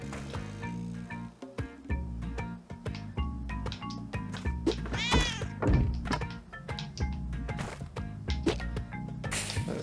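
Cat meowing in the Spelunky 2 video game, a few short mewing calls over busy, continuous game music with thumps and taps throughout.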